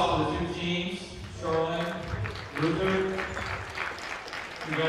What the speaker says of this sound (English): Big applause for the two teams